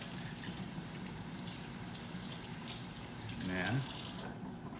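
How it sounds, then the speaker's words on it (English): Hands are rinsed under a running kitchen tap while cooking, with a steady close hiss and splash of water into a sink and a brief spoken word near the end. "So, wash those hands really, really good. Give us a good rinse."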